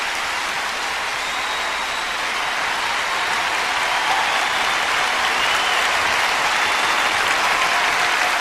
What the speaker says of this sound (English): are they just clapping because of the way she sang that note?